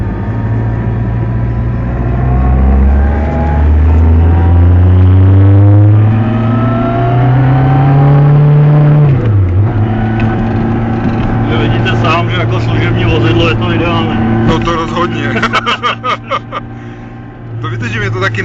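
BMW 1000 engine revving: a loud, close motor rises in pitch over several seconds, drops sharply, then settles and rises again, ending in rapid stuttering throttle blips, with someone speaking at times.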